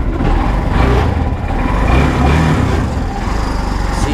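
A tricycle motorcycle engine idles while warming up, a steady, loud, rumbling drone with slight fluctuations in pitch and no speech over it.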